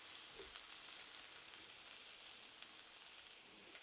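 Finely chopped onions sizzle in a little oil in a frying pan, a constant close crackling hiss with occasional small pops and faint stirring taps, steady throughout and without any voices.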